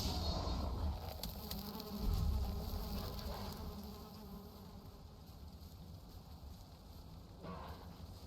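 Bees buzz steadily in a modded survival video game, a continuous insect drone that starts louder and settles to a fainter hum, with no talking.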